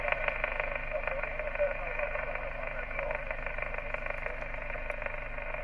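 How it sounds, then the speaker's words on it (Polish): A weak CB radio station calls over the air during an emergency communications test. A voice comes through steady static and crackle at an even level throughout. "Jakąś słabą stację tutaj słyszałem, co mnie woła."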